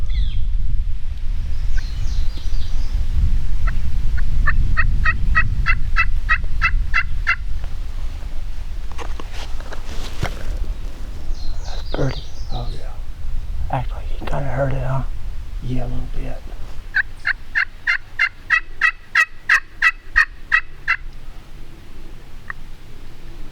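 A wild turkey gobbles out in a Michigan field in repeated rapid rattling bursts, fairly distant, with quiet conversation and low rumbling background noise in between.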